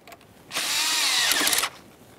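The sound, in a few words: tightening an 8mm hose clamp on the throttle body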